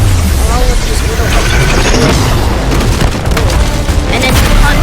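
A big explosion from a move in the video game The Strongest Battlegrounds rumbles loud and continuous with dense booming impacts and crackling debris throughout, a sustained heavy blast texture without pause.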